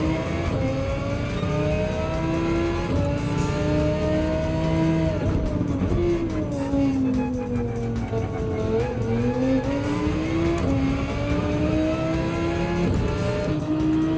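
An Audi race car in Gran Turismo 7 drones steadily up close, its engine pitch rising and falling through shifts and corners, with a faint tire squeal woven through the continuous roar.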